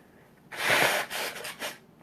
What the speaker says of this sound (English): I'm so sorry to blow my nose and cough on air